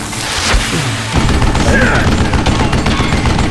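Rapid gunfire from a zombie-shooting video game, with dense repeated shots and a heavy boom near the start, loud and continuous throughout.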